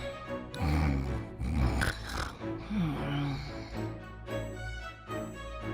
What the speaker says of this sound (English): Don't let her know you heard her snore.